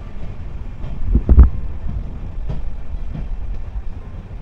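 The 13115 Humsafar Express rolls slowly through Kalyani station, heard from on board as a low, muffled rumble with a few dull thumps and knocks.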